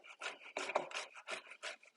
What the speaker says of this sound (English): I'm just going to take the cheese grater. We're going to take our potatoes, skin and all, and we're just going to run them through.